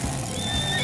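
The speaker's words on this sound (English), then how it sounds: "a horse says neigh" A horse whinnies, a high wavering neigh rising over a low rumbling background, close and fairly loud.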